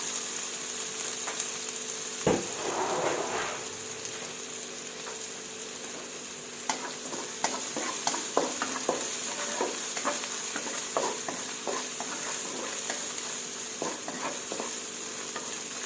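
Chilies and lemongrass stir-fried in a pan for chicken with lemongrass, giving a steady sizzle throughout with repeated scraping and stirring clicks, close and fairly loud, no talking.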